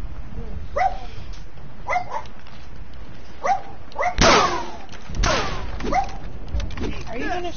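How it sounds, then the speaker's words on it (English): A dog barks in repeated sharp bursts, close and loud, with thumps and whimpering amid a noisy room where a person talks over it during Verdun gameplay. "Stop barking."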